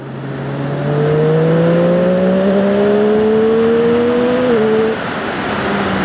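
A Triumph Daytona 675R motorcycle engine revs steadily upward in a loud, close, continuous whine that climbs in pitch for several seconds, then briefly dips and holds.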